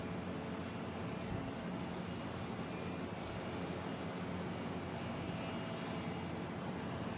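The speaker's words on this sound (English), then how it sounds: "Coming in from Detroit in A220." JetBlue Airbus A220 arriving from Detroit on approach to land at Boston Logan, a steady broad engine rush heard at a distance with a wind-like hiss throughout.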